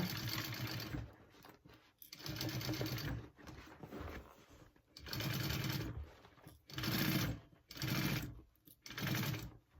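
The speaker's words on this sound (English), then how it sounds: "Sew that together." A sewing machine stitches a tote bag in repeated bursts of fast, rattling running, each lasting one to two seconds and separated by brief pauses, close and alone.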